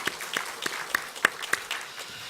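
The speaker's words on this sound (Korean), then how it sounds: "우리 살아계신 하나님께 다시 한번 영광의 박수 올리겠습니다." A church congregation at a Sunday morning service claps in praise, a short burst of scattered, fairly sparse claps at moderate loudness, heard alone.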